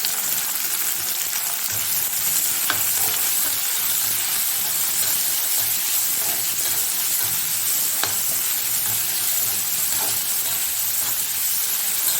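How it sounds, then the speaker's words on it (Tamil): Ridge gourd kootu sautés in a pan with a loud, dense, unbroken sizzle and hiss, broken now and then by faint utensil clicks. "நம்ம அப்படியே கொட்டி கொஞ்சம் சிறுக வதக்கினாலுமே போதும்"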